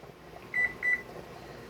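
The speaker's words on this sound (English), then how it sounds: "now that I got the chicken in the oven, I will set my timer to at least an hour" Kitchen oven timer being set for chicken wings: two short electronic beeps in quick succession, clear and close against a faint steady room hum.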